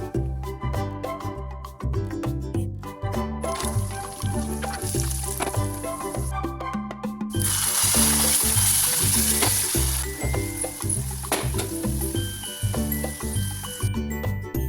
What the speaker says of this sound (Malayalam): അണ്ടിപ്പരിപ്പും മുന്തിരി ഇഷ്ടത്തിന് ഇട്ടുകൊണ്ട് വറവിട്ടെടുക്കാം